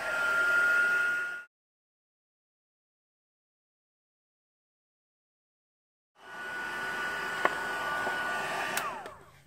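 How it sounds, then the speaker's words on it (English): A heat tool drying distress resist spray for a craft project blows with a steady whooshing hum for about a second and a half, stops for several seconds of silence, then starts again and runs to the end. "we are going to heat that up with our heat tool"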